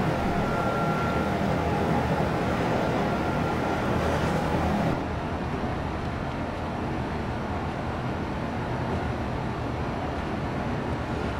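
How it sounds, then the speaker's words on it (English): Class 90 electric locomotive running on the Great Eastern Main Line from Ipswich to London in Train Simulator, a loud continuous rolling rumble and hiss that drops slightly midway, with no talk. "Adam, we are currently driving a class 90."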